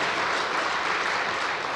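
A church congregation at a Wednesday worship service claps in welcome for visitors, a steady, dense wash of applause that holds at an even level throughout with no talk over it.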